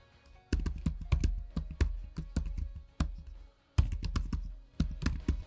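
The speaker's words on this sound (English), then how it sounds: "check out just how nice the Surface Laptop 5 can sound for a laptop keyboard" Close-up typing on a Surface Laptop 5 keyboard: crisp rapid key clicks in two bursts separated by a short pause, clear and alone.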